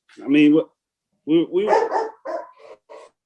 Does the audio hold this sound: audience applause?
no